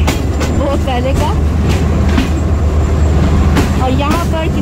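Train locomotive running along the loop line past Jahangirabad railway station on the Rehman Baba Express in Pakistan, a loud steady rumble with rhythmic clatter heard from the cab, with a voice talking over it.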